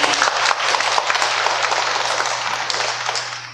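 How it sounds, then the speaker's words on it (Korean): Church congregation applauding a welcome during a service, a dense, even wash of clapping that slowly fades toward the end. "계속 기도하겠다는 마음으로 박수로 환영해 주시길 감사합니다."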